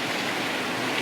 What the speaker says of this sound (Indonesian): ini hujan luar biasa ya